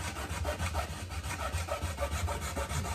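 A hacksaw cutting through the metal shell of an electric kiln being converted to a propane-fired outdoor kiln, giving quick repeated rasping strokes, fairly quiet and close.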